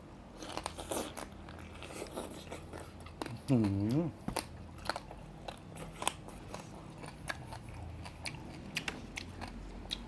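Crunchy bites and chewing while eating frog noodle soup with fresh vegetables, sharp close crunches scattered throughout, mixed with speech and a short hum-like vocal sound.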